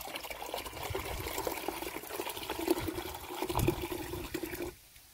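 Liquid organic pesticide made with neem, poured into a container, a steady close gush of liquid that builds and then stops abruptly near the end.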